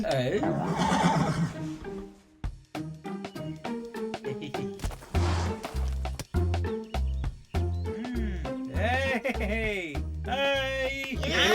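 An animated cartoon horse neighs and whinnies in several loud, wavering calls mixed with snorts and hoof-like thumps, while cartoon characters speak around it.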